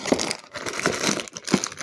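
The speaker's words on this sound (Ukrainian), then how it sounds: "Зараз я відкрию пакетик" Crinkling plastic packet of a Labubu toy being opened up close, with a few sharper crackles and rustles spread across a couple of seconds, no talking.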